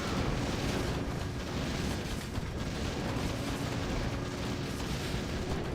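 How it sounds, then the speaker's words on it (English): Mortar fire and explosions from a Warcraft III match form a dense, continuous rumble of overlapping booms at moderate level, with no clear gaps between blasts. "Just have mortar wars."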